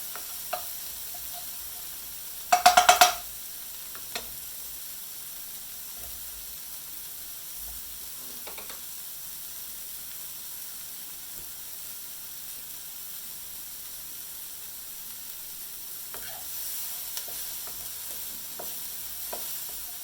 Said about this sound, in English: I kind of let the onion cook off a little bit